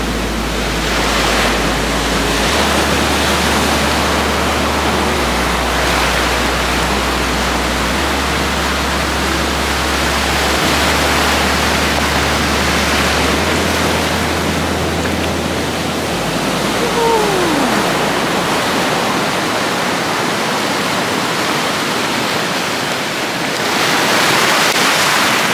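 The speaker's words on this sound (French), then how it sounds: "Il y a une grosse vague qui arrive, vous allez voir, ça va faire comme une mini cascade dans les rochers." Big ocean waves wash over rocks on the coast of Tenerife, a steady loud roar of surf and pouring water like a small waterfall, swelling again near the end, with a low musical tone underneath.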